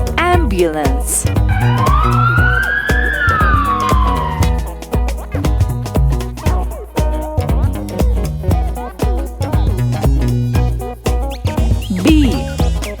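A wailing ambulance siren sweeps up and down over a steady musical beat, loud and close, mixed with other sound effects.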